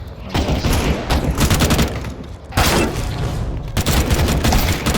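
Rapid gunfire from a Counter-Strike 2 arms race match, with dense bursts of shots filling the clip almost continuously and loud, close bursts that pause briefly near the middle and again toward the end.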